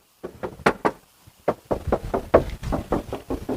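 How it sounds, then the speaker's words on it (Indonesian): Knuckles knocking on the metal body panel of a 2000 Isuzu Panther New Royal, a run of about a dozen sharp, ringing taps in uneven clusters, close and clear with no talk. "Kalau kita ketok kayak gini juga dia masih ngaleng"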